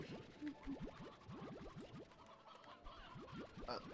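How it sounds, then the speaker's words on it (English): Chickens in the Slime Rancher 2 video game cluck in quick, chirpy bursts, a handful of short calls in clusters over steady game ambience. "Look at all these chickens."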